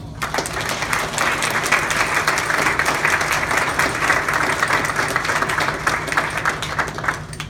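A round of applause from an audience honoring program workers: dense, continuous clapping from a sizable crowd, even in loudness from start to finish, with no talking over it.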